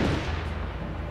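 Dense, continuous rumbling gunfire and blasts in the World War II strategy game Company of Heroes 3, with a rifle grenade among them, loud and unbroken throughout.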